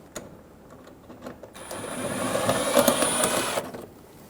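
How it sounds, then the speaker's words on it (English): A cordless power tool whirs for about two seconds, backing a 7mm screw out of a Ford Focus bumper, up close with a few light clicks before and after. "remove all of the 7mm screws"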